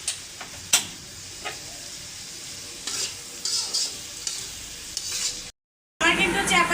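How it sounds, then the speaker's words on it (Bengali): Chepa shutki, fermented dried fish, fries with garlic in a hot pan, giving a steady crackling sizzle broken by occasional scrapes and clinks of a stirring spoon, with a brief silent gap near the end. "আমার কিন্তু চাপা শুটকিটা রসুনের সাথে ভাজা হয়ে গেছে।"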